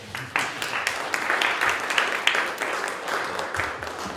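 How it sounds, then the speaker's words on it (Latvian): Audience applause fills a talk on reducing tourism's negative impact on nature, a steady mid-distance clapping that starts abruptly and holds evenly for a few seconds. "Aplausi!"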